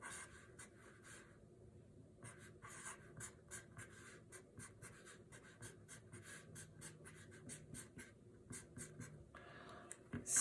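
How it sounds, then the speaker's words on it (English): Marker or pen writing out a structural formula on a board, a steady run of short scratchy strokes with brief pauses between groups, close and fairly quiet, no talking. "I'll write the structural formula for it"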